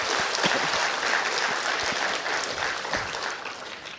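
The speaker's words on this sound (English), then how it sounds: "please give him a big round of applause" An audience gives sustained, even applause after an inaugural professorial lecture, with dense clapping that holds for the whole stretch and no talk.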